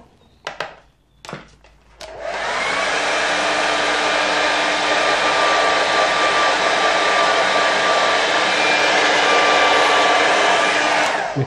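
A hair dryer blows steadily and loudly over a watercolour painting for about nine seconds, following a few brief knocks at the start.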